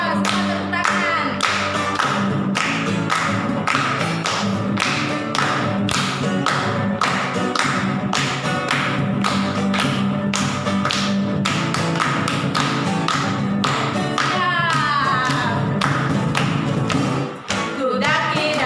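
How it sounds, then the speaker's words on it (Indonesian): Rhythmic hand clapping from a Sunday school congregation at a GBT Kristus Pembela church service, steady beats running throughout over a loud backing of sung worship music. "Ayo, semua tepuk tangan."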